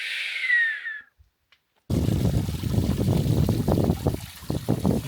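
Water pours and trickles steadily into a bottle being filled at a mountain spring above 2000 metres, close and continuous after a brief whistle-like sound and a moment of silence.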